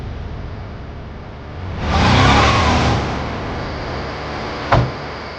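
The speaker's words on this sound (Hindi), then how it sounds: "गाड़ी साइड में लगा" A car engine revs up loudly for about a second as the vehicle pulls over to the roadside, then eases back to a low idle, followed by a sharp single thud like a door.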